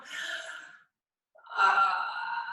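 Two audible breaths during a first-grade yoga stretch: a soft sighing exhale, a brief pause, then a deeper, louder airy breath, close and alone.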